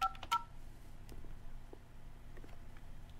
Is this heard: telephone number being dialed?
yes